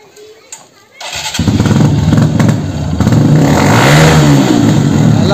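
An old, modified motorcycle's engine starts after a brief quiet moment, then runs loudly and revs up, close by, with people talking over it.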